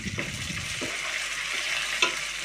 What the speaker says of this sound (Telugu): ఇప్పుడు ఉల్లిపాయ వేగింది కదా కరివేపాకు వేసుకున్నాం కలిపించుకున్నాం